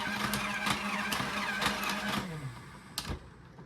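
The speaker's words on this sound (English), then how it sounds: "you're just laying down darts, just blasting away" A Nerf Elite Rhino Fire, a double-barrel, fully automatic dart blaster on a tripod, whirs and clatters in a rapid burst that winds down after about two seconds, followed by a last sharp click.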